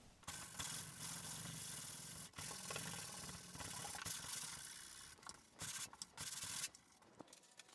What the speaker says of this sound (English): we are going to go ahead and give it a good sanding and see how it looks.